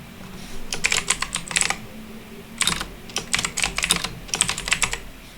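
Computer keyboard typing in three quick bursts of rapid keystrokes separated by short pauses, close and clear over a faint low hum, no voices.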